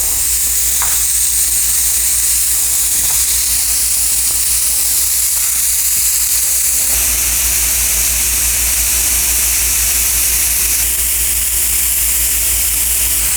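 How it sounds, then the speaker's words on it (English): Wagyu steak sizzles loudly and steadily on a hot salt block, a dense crackling hiss with a low hum underneath and no talking. "Hear that wonderful sizzle."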